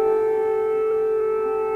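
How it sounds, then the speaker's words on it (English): Air raid siren wailing over Kyiv during the war, a steady loud sustained tone with strong harmonics holding level throughout, no voices. "Air raid sirens"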